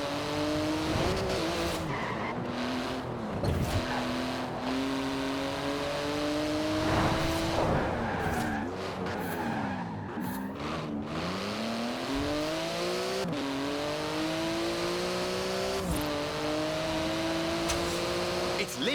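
Porsche 911 GT2 RS with titanium exhaust in the racing game Forza Horizon 4, its engine howling through rising and falling gear changes with bursts of tyre squeal over nearly twenty seconds, loud and continuous.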